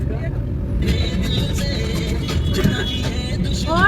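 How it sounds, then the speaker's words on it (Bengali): Steady roadside engine noise as motorbikes pass on the mountain road from Kargil to Leh, India, with people talking over the traffic. "কত বাইক আসছে"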